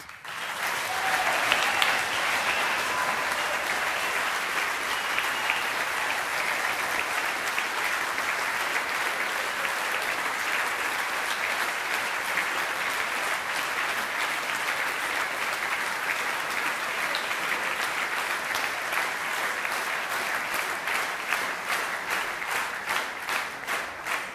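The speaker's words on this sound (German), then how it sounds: "die Band hat einfach einen riesen Applaus verdient" A gala concert audience applauds a brass band at length, with dense, even clapping that holds steady for the whole stretch and quickens into a rhythmic patter toward the close.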